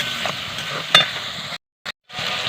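Onions frying in a pan hiss steadily while water is poured in, with a sharp clink of a utensil and a short scraping stir; the sound cuts out briefly twice near the end.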